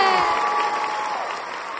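Applause and cheering from a studio audience after a duet on a televised singing competition, a steady loud patter throughout with tonal music or voices ringing over it.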